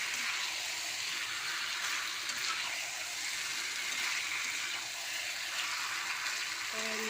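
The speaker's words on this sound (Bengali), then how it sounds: "আমি পরিমাণ মতন জল দেবো।" Water is poured into a pan of Bengali chicken and potato curry (chicken kosha) with its fried spice paste. A steady, hissing gush runs throughout, with a faint clink near the end.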